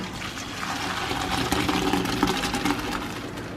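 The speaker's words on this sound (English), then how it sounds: "The pasta is cooked for 7 minutes and now I will strain it." Cooked pasta, boiled about seven minutes for an Alfredo chicken dish, being poured into a strainer, giving a steady close rush and splash of draining water that holds for several seconds without talk.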